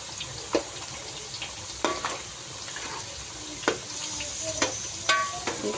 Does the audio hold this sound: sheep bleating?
no